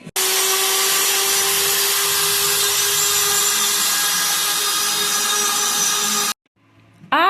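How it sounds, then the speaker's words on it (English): A handheld rotary tool sands back Tasmanian oak wood on an easel being modified, a loud steady high-pitched whine held close for about six seconds before cutting off abruptly. "It's just not going to be easy to sand back, so my rotary tool's going to do it."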